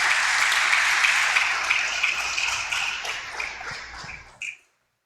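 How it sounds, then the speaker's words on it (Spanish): Church congregation at the first service of the year clapping loudly, a dense, sustained wash of applause that gradually thins out and then stops abruptly after a final burst. "Dele palmas fuertes al Señor."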